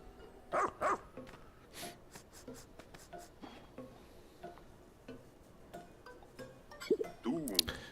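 A pup dog in the video game Pikmin 4 sniffs and barks, with a few short yips early on and a louder burst of barking near the end over quiet rustling. A voice speaks in between.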